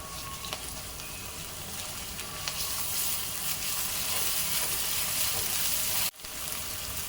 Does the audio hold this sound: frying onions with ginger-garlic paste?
yes